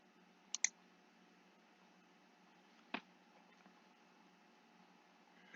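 Computer mouse clicks in a quiet room, a quick double click followed a couple of seconds later by a single faint click over a soft steady hiss.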